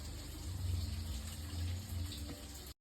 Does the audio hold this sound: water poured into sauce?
yes